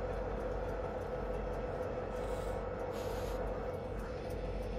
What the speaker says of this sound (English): Got our train following us back there, going into the siding here.